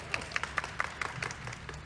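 An audience claps at a film launch event, a short run of light, fairly quiet applause with distinct individual claps in a steady rhythm.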